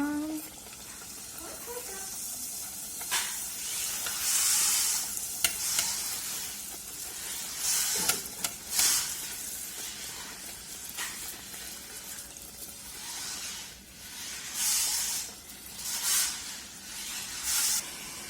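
Wheat flour puris sizzle and bubble in a shallow layer of hot oil, with occasional scrapes and splashes as they are turned, while a person talks over the frying.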